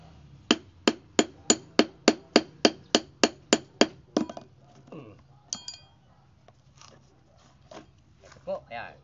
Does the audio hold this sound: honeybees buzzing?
no